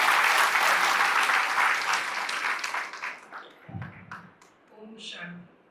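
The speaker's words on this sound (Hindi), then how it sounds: "आप ताली बजा सकते हैं।" An audience claps steadily through a Holi gathering in Haridwar, the loud applause thinning and trailing off toward the end with a few scattered claps and faint voices.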